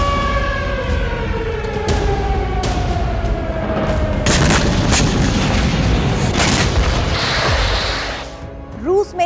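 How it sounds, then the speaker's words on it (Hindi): Nuclear attack warning sirens wail in long falling tones, layered with deep booms and rumbling blasts that grow denser midway, loud and continuous without talk. "अमेरिका में परमाणु हमले की चेतावनी देने वाले सायरन बजाए जा रहे हैं"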